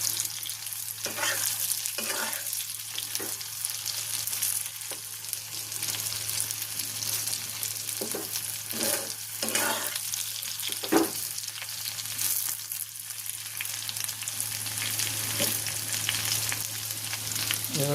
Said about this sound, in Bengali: লাল লাল করে ভেজে নিলাম, ক্রিস্পি করে ভেজে নিলাম।